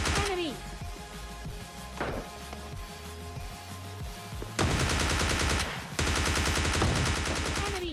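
Crossbow and shotgun fire from the mobile shooter PUBG Mobile Lite, heard as several sharp gunshot bursts among game noise, louder and denser in the second half.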